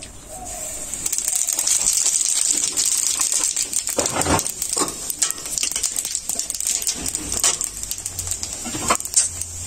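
Radhuni seeds hit hot oil for a tempering, a loud bright sizzle that holds steady, then breaks into bursts of crackle and stirring scrapes toward the end.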